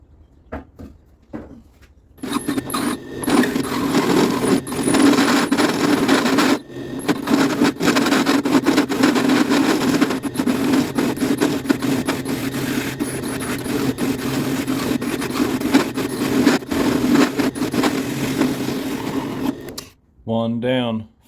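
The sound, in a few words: hole saw drilling holes in steel for pipe stakes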